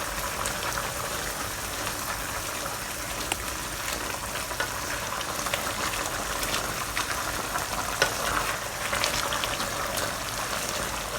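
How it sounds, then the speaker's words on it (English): Cornstarch solution being stirred into a one-pot Chinese-style chicken stew gives a steady, dense bubbling and simmering hiss that runs evenly throughout, with no talking. "Slowly add in some cornstarch solution,"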